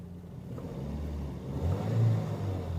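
A car engine with a suspected faulty variable valve timing solenoid idles low, then revs above 2750 RPM in a steady rising swell before the pedal is released and it eases back toward idle, close and alone with no voices.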